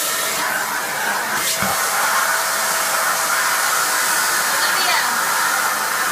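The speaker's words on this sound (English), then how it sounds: "Come vacuum over here. It's dirty over here." A household vacuum cleaner runs steadily indoors, a loud continuous whooshing roar that barely changes over several seconds, with only a brief bump in the noise partway through.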